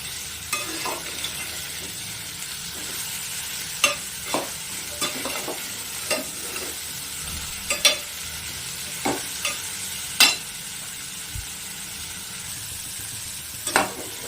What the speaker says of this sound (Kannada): ಇದೇ ರೀತಿ ಎಣ್ಣೆ ಒಳಗಡೆನೆ ನೀಟಾಗಿ ಫ್ರೈ ಆಗಲಿ